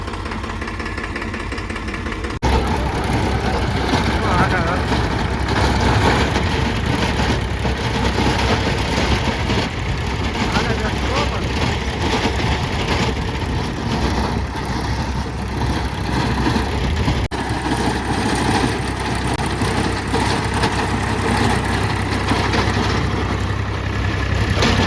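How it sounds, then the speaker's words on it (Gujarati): A large tractor's engine runs steadily throughout, a loud, continuous low rumble close by with no break in the drone. "ટ્રેક્ટર હાકી દીધું"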